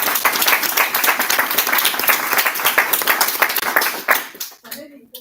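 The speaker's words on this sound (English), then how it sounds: "give a huge round of applause for all our learners" Audience applause at an adult learners' award ceremony, a dense, steady burst of clapping from a crowd that fades out abruptly, followed by a brief voice.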